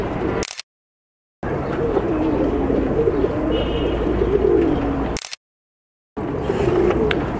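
Pigeons coo in a loft, a soft continuous murmur of low calls broken by two short gaps of complete silence, with no talking.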